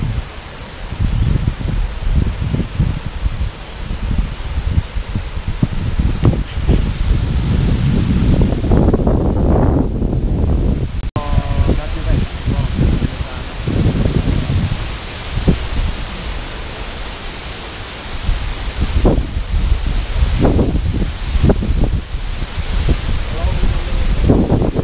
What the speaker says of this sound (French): On fait un petit stop pour admirer la chute d'eau.